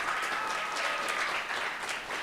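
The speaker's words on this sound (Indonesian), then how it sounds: "Sekali lagi tepuk tangan yang meriah untuk kita." Applause from a crowd of pesantren students at Pondok Pesantren Al Haris in Makassar, a dense steady clapping that holds at full strength throughout with no voices over it.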